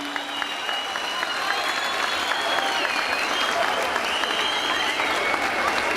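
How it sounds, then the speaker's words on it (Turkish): A crowd at a spring festival applauds steadily in tribute to people who lost their lives, dense clapping holding evenly loud throughout with a faint whistle or tone drifting above it. "Onlara bir saygı alkışı istiyorum."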